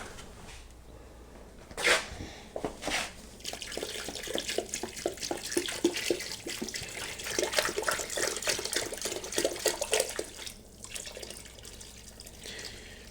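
Hot water runs steadily from a tap into a jug in a kitchen for mixing beekeeping sugar syrup, a soft continuous splashing stream with a few clunks, fairly quiet and without speech.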